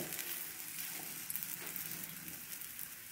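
A bottle gourd (lauki) snack cooks on low heat in a pan with ghee, giving a steady, soft crackling sizzle with small popping bursts throughout.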